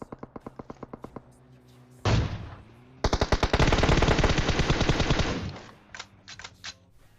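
Automatic gunfire in the PUBG Mobile battle royale game: rapid bursts of shots, a short single-shot volley, then a long sustained stream of fire, fairly close and loud.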